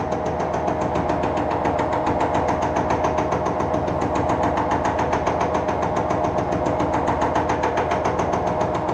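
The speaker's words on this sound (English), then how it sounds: "I'm cutting 2 gears at once" Workshop milling machine cutting two gears at once, a loud, continuous, steady machine drone with a fine regular chatter of cutter teeth throughout, close up and with no talk.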